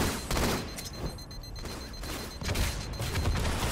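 Rapid gunfire rattles in a competitive Halo match on the Lockdown map, loud volleys and booms filling the mix with short pauses between bursts.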